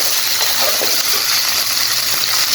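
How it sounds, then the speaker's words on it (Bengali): Water is poured into a hot frying pan holding fried onion, garlic and green chilli, giving a loud, continuous rushing hiss that fills the whole stretch, close by. "পানি দিয়ে দিলাম।"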